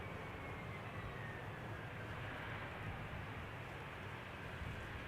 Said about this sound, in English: Let me quickly catch the landing of the Embraer 170.